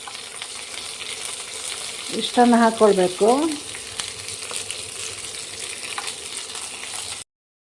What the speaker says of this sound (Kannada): ಇದಕ್ಕೆ ಬ್ಯೂಟಿಫುಲ್ ಆಗಿರೋ ಒಂದು ಒಗ್ಗರಣೆ ಕೊಟ್ಟು ತೆಂಗಿನ ತುರಿ ಹಾಕ್ಕೊಳ್ಬೇಕು